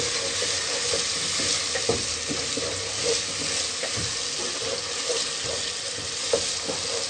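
Spice masala of turmeric powder, red chili and salt roasting in a pan, a constant close sizzle broken by scattered scraping and tapping of a stirring spoon, with no voices.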